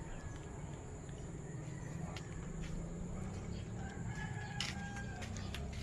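Chickens and a rooster in a backyard coop, with faint clucking and a distant crow over steady low outdoor ambience.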